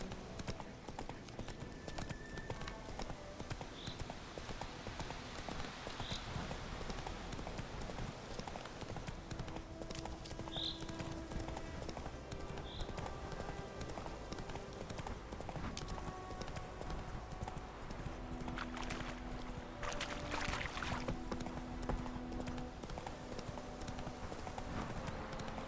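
Horse hooves clip-clopping in a fast, steady gallop rhythm throughout, from The Witcher 3, close and continuous, with a faint tonal background and brief incidental sounds layered over it.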